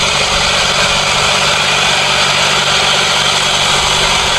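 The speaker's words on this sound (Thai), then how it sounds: "ขับโดยแม็กคันเร่งจมครับ" The engine of a rice farming machine in a Thai paddy runs flat out at full throttle, a loud, steady, unbroken roar with heavy vibration from start to finish and no pauses or voices.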